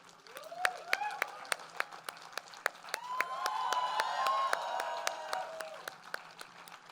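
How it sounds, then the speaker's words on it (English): Audience applause at a stage event welcoming actress Kriti Sanon, soft diffuse clapping running throughout with sharp individual claps standing out, under a sweeping musical background. "Please give a big round of applause as we welcome Kriti Sanon on stage"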